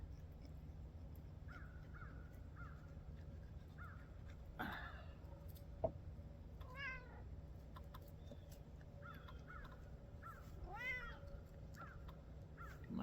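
A cat meows repeatedly outdoors, several short rising-and-falling calls spaced across the stretch, moderately near over a low background rumble, with a couple of faint knocks.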